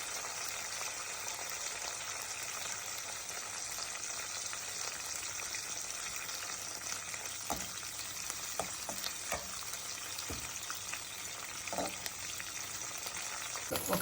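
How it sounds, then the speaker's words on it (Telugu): Green chilies and curry leaves frying in oil for tamarind rice (pulihora) give a steady, even hiss of sizzling oil with a few soft clicks and pops, with no voices. "పచ్చిమిర్చి దూరగా వేగాలి"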